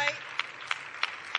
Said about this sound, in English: They are clapping their hands right now.